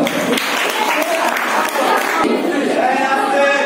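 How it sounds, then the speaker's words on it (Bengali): An audience at a Rabindra Jayanti programme at a coaching centre breaks into loud, sustained applause, dense close clapping from a crowd filling the room with barely any break, with a voice over it. "জোরে হাততালি বৃষ্টির জন্য।"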